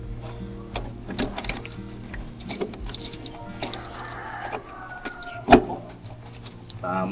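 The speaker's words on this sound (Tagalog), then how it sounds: "Ito susi ito ng gate." Gate keys jangle and clink in hand, a run of loud metallic rattles and taps with one sharp clack near the end, close by with no talking.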